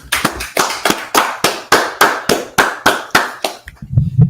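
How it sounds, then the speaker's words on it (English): Sharp, evenly spaced hand claps ring out about three per second, loud and close, ending with a brief muffled rustle. "let's clap it up"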